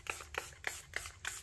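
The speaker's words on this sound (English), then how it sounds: "So the first thing I'm going to do is I'm going to spray the surface of the mold." Five short, evenly spaced spritzes from a handheld spray bottle misting the surface of a plastic resin mold, quiet and close with brief pauses between each pump.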